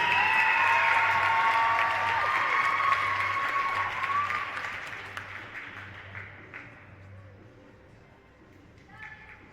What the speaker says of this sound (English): please give it up for all of our first and second team honorees